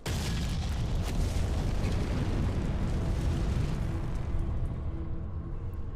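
Howitzer fire in a video game, a loud, sustained, close rumbling boom that fills the whole stretch and then slowly fades, with no talking over it.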